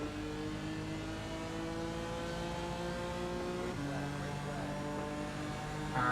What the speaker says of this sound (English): I'm going around the corner and I slam on throttle.